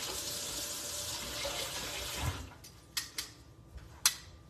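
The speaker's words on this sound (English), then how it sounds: "Let's rinse this off." Tap water runs steadily into a sink as chicken wings are rinsed, a continuous hiss for about two seconds that then thins, with a few light splashes and clatters.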